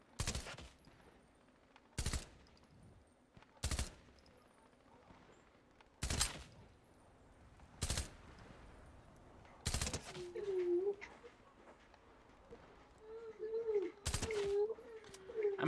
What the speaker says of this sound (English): I'm shooting at a llama.